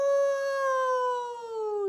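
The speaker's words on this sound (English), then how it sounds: "Johnny heard a wolf wailing in pain" A wolf howls in pain, one long sustained wailing note that slides slowly downward and cuts off abruptly, loud and alone.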